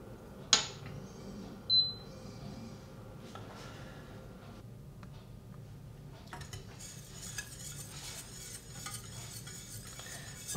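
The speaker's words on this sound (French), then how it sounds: "On remue légèrement. Et on laisse fondre doucement," Chocolate melts in a pan while a utensil gives light, intermittent scrapes and clinks, with two sharper knocks near the start and a soft background sizzle; no one speaks.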